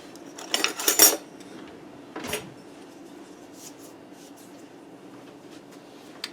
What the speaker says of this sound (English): So I'm going to use this plastic knife.